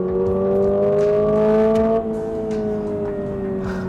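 A Subaru BRZ STI Edition's naturally aspirated engine revs hard and steady, its loud close tone climbing for two seconds, dipping briefly, then holding a high drone alone.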